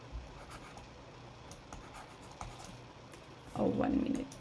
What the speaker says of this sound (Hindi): ये मैं लिखती हूँ